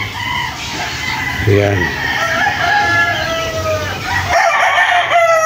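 At a Philippine poultry farm, roosters crow loudly and close by in long, rising calls over a busy backdrop of clucking chickens, while someone speaks briefly in between.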